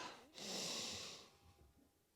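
One close, quiet, breathy inhale through the nose lasts about a second during a floor exercise in a muscle-strengthening workout, then fades to near silence.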